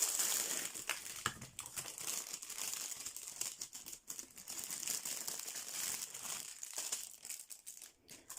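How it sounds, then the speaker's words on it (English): Plastic packaging on an Amazon diamond painting kit crinkles and crackles continuously at close range as it is pulled open, with brief tearing bursts and no talk. "Sorry about the crinkling."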